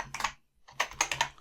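Keys clatter on a computer keyboard on a Mac, a few quick close taps, then a short pause, then a brisk run of four or five more keystrokes.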